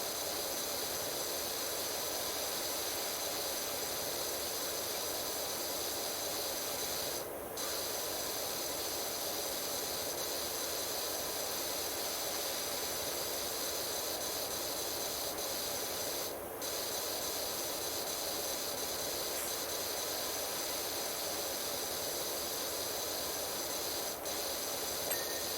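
A pressure washer with a 15-degree nozzle blasts a surface in one steady, loud, unbroken hiss, briefly interrupted a couple of times as the spray shifts.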